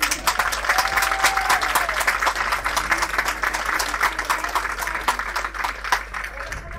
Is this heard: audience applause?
yes